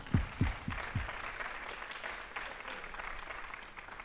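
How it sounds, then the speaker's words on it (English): Audience applause at a Fayetteville-Manlius school board meeting, a few loud claps at the start settling into a steady, moderate patter of clapping from the room. "Give a round of applause."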